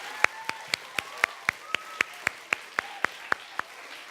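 A theater audience applauds, with crisp claps at a steady, even pace over a soft background hum.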